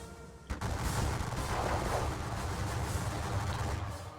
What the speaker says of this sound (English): We'll go into line and give them a bit of volley fire as well.